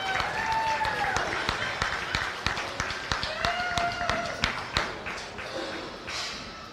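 Crowd at a county fair goat show claps for the champion beginner showman, a fairly close burst of scattered, uneven hand claps with a few louder slaps, and a voice speaks over it briefly.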